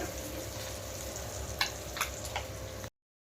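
Large pieces of fish fry in a pan of hot oil, a steady faint sizzle with a few sharper pops and crackles before the sound cuts off.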